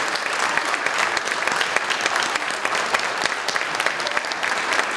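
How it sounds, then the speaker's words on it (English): An indoor audience at a youth assistance awards ceremony claps steadily for community leaders, a dense, even wash of applause lasting throughout with no voices on top. "Stand up so we can clap for you."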